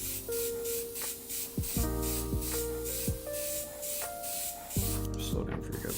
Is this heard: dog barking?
no